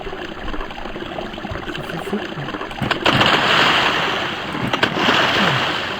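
Rushing water in the video game Survivalcraft 2 surges and splashes as it floods into a river channel, growing louder midway, with a rough, continuous wash of noise and no voices.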